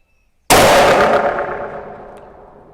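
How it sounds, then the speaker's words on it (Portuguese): A single loud precision rifle shot fired with an EC Tuner on the barrel, a sharp crack after a moment of quiet, then a long echo rolling away over a couple of seconds. "eu vou dar um terceiro disparo, só para mim saber se continua agrupando dessa maneira"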